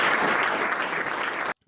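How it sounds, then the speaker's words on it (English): A crowd bursts into dense, steady applause for a short stretch, loud and close, then cuts off abruptly into silence. "Give our boy a round of applause,"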